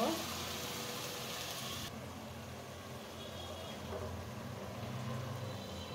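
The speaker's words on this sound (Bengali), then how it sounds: "এখন আমি এটা সুন্দর মতো কষিয়ে নেব।" Onion and dry spices sautéing in oil in a pan, giving a steady, moderate sizzle and crackle that runs throughout with a slight dip partway through, no talking.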